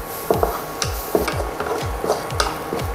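Food cooking in butter in a pan for cheesy white sauce macaroni, with repeated scraping and stirring strokes of a utensil over a soft sizzle, close and clear, no talk.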